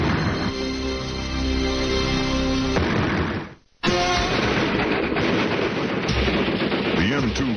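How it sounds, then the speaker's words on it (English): A 50 caliber Browning machine gun fires in dense rapid bursts, loud and continuous with a brief break midway, amid battlefield noise under narration. "the 50 caliber Browning proved itself as one of the most versatile and effective machine guns"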